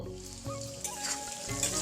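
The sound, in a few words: potatoes frying in oil with salt and turmeric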